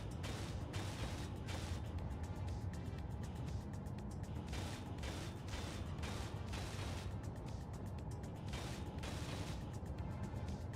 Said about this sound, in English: Let me weld up all these things